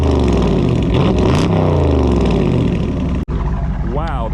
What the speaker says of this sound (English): I want to give you guys a little exhaust clip